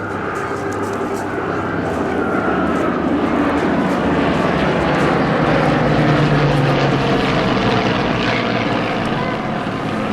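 Propeller engines of a wartime Lancaster bomber and Hurricane fighters from the RAF Battle of Britain Memorial Flight roar steadily and loudly in flypast over the Eastbourne airshow, a dense continuous drone that swells slightly toward the middle.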